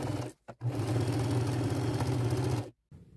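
A sewing machine runs a straight stitch along a nightgown being turned into a duster kimono, with a brief pause near the start, then a steady close motor hum for about two seconds before stopping.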